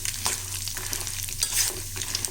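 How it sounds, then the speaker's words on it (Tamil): Urad dal and peanuts roast in a pan over a low flame, a gentle steady sizzle with repeated scraping stirs, close and moderately quiet with no voices. "இதெல்லாம் நல்லா தீ குறைவாக வச்சு நல்லா வறுப்படணும்."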